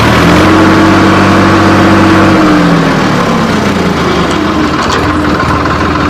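A Sonalika RX 47 tractor engine runs loud and close, a steady low diesel drone whose pitch shifts partway through as the gears are changed, then settles into a rougher rumble.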